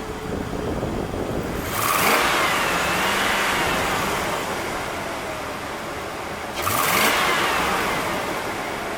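A 2001 Chevrolet Vortec 8.1 engine with a suspected faulty throttle body revs up twice from a steady idle, each rise swelling loud and close before settling back.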